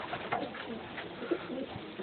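A racing pigeon at a loft during a one-loft race in Gympie, soft low cooing repeated several times, faint and close, with quiet background noise and no talk.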